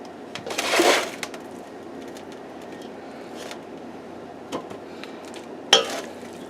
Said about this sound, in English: notice how it just scrapes right off the skin